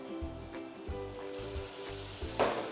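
Coriander and chili powder sizzle in a hot pan with a splash of water for a banana-flower curry, a soft, steady crackle with faint stirring, heard close and quiet.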